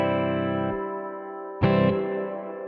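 An electric guitar runs through a BlueSky reverb pedal and plays on its own: a held chord stops short, then a sharp new strum blooms into a wide, shimmering reverb wash that fades out slowly.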